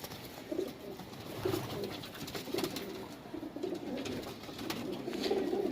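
Madrasi pigeons coo softly in repeated low, throaty bursts, several birds overlapping at a modest distance against a faint background hiss.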